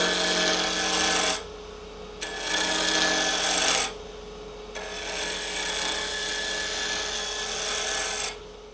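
Wood lathe roughing out a wooden string top, giving a steady broadband scraping hiss from the cutting tool that cuts off and resumes in several passes over a constant motor hum.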